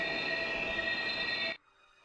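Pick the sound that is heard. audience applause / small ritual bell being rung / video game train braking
video game train braking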